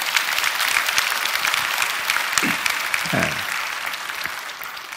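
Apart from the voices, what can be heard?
audience applause for 100-year-old church deaconess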